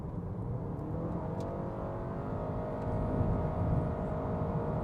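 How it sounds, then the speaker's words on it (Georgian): A Honda Accord Hybrid accelerates with the gas pedal pressed, heard from inside as a low, steady engine drone and road hum that rises slightly in pitch and loudness partway through. "მოდი დავაჭიროთ გაზის პედალს და ვნახოთ რა სიზავს"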